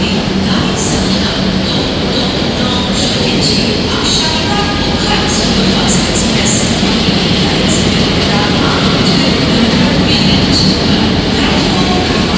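Shri Jagannath Express train from Shalimar to Puri running steadily, a dense continuous rumble of wheels and carriage noise with faint clatter, loud and close from inside the coach.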